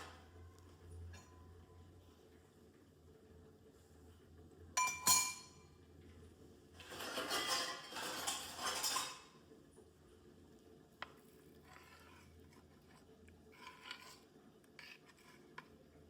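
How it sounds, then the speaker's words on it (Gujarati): Buttermilk being stirred into gram flour in a bowl, faint wet squishing and a spoon clinking against the bowl in short bursts, with a louder scraping flurry in the middle, quiet and close. "ચણાના લોટ સાથે આપણે છાશ એડ કરી દીધી મિત્રો. આપણે એને સારી રીતે મિક્સ કરી દઈશું."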